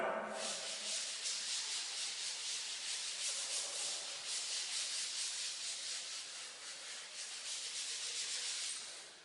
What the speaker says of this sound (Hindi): तो आगे रब कर देते हैं इसको